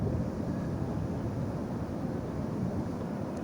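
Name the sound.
wind blowing at Rizal Memorial Stadium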